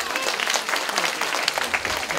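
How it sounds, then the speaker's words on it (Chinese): Audience clapping at a church Christmas evening show, a dense burst of applause that stays steady and fairly close throughout. "值不值得再给他们热烈的掌声？"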